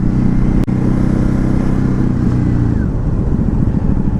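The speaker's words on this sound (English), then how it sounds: "blip the throttle on a down change to even the revs out" A 2019 Ducati Hypermotard 950 engine hums loud and close, its revs dipping and rising once as the rider blips the throttle on a downshift, with a sharp click early on.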